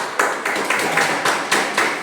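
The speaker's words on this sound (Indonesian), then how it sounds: "Itu tepuk tangan." An elementary school class claps hands together in patterned bursts, roughly six rhythmic group clap clusters close by in a classroom.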